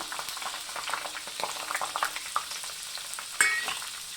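Garlic and ten dried red chillies sizzle and fry in hot oil for a red chilli pickle tempering, a steady close crackle with stirring scrapes and one sharper burst near the end, no talk.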